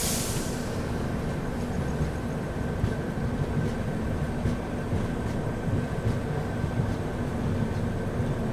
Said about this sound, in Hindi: और ट्रेन अपनी पहुँच रही है कसारा रेलवे स्टेशन पर।